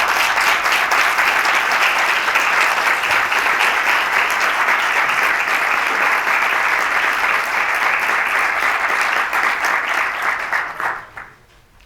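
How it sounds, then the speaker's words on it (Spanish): Sustained audience applause at a central bank presentation, a full, steady roar of clapping that holds for about ten seconds before fading quickly to quiet. "Para ella un aplauso."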